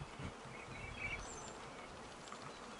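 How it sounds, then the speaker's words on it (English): Honeybees from a queenless hive with a laying worker swarm close around a microphone at the hive's front entrance, giving a steady, near, dense buzz that fills the whole stretch with no talking. "Bees are attacking this microphone"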